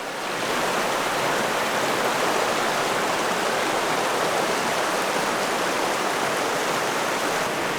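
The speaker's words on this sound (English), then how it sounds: "Got all these running rapids, and I've just started to enter a gorge" River rapids rush through a gorge as a dense, constant roar of white water, loud and close, with no pauses or voices.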